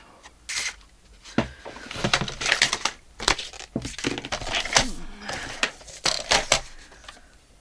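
Scissors cutting paper for antique-style scrapbook pockets, a run of close, crisp snips and rustling paper strokes in irregular bursts, no talking.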